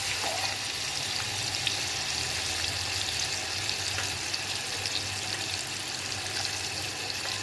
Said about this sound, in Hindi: प्याज को हम अच्छी तरह से फ्राई कर लेते हैं।